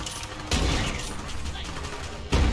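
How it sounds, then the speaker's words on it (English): Gunfire from a sniper in Borderlands 3: two sharp, loud blasts about two seconds apart, each breaking into a dense noisy roar, over continuous game noise. "Stop shooting at me!"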